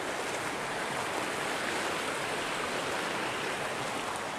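Rushing water flows steadily and broadly, a constant close hiss and gurgle of a creek with no pauses or voices.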